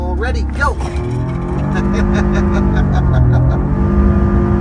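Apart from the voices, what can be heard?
Karma GS-6L range-extended EV accelerating hard using launch control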